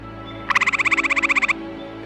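A small tree-dwelling frog in a backyard swamp at night gives one close, loud burst of about sixteen rapid, evenly spaced call pulses lasting roughly a second, alone over a faint background hum.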